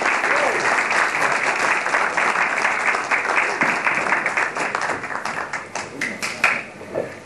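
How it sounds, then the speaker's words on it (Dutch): Applause from members gathered at an amateur radio club's Christmas meeting in Amersfoort, 1988, a steady dense clapping that carries through the whole stretch and thins slightly toward the end. "Ik wil graag naar voren halen, onder applaus, NL5557, Peter Butselaar, onze buurman."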